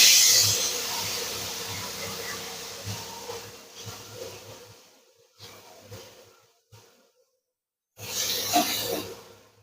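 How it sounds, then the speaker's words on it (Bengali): Boiled chickpeas being stirred in oil left from frying paneer, giving a steady hiss and sizzle with scraping pulses, fading into quiet gaps before a louder burst of sizzling near the end. "এবার একটু নেড়ে নেব, এই পনিরের তেলে একটু নেড়ে নেব।"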